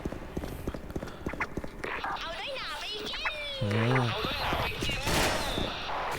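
Rapid gunfire in the Special Force online shooter: bursts of quick repeated shots, some close and loud, others distant, mixed with game effects while players talk excitedly over it.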